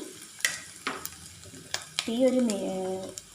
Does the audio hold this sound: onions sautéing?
yes